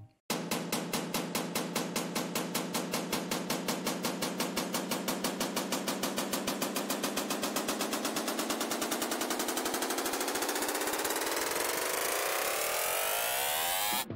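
A synth riser built in DirectWave with automated pitch sweeps steadily upward for about fourteen seconds, a rapid buzzing pulse that quickens as it climbs. Loud, continuous and alone, with no voices.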